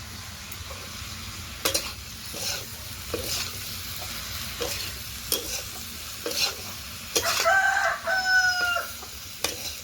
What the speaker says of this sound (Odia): ଏବେ ପୋଟଳ ଭାଜୁଛି